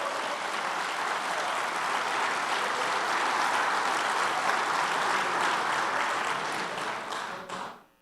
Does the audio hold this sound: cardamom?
no